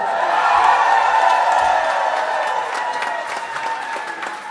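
A large crowd applauds and cheers for beatboxer Alexinho, the reigning 2018 world champion, at a Toronto show: dense, sustained clapping with whoops, loud from the start and easing slightly toward the end.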